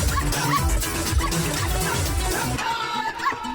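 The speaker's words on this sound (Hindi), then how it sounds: "इस कुत्ते से बचाओ।" A dog yips and barks repeatedly in short, loud bursts with whimpering yelps, close by and mixed with a busy background of other noise in a Hindi comedy film scene.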